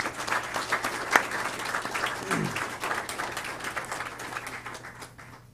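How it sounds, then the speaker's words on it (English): An audience claps for graduating students at a signing-day ceremony at TCAT Hohenwald, steady applause from a modest crowd in an indoor hall, loudest early with a sharp clap or whoop, then tapering off, over a faint low hum. "if everyone will please help me give them a round of applause"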